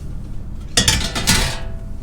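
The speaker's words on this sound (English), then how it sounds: "I'll sit them on this little pan." Metal clatter and clinks of bread buns being set down onto a small baking pan in a home kitchen, a couple of short bright bursts of handling noise in quick succession, close and moderately loud.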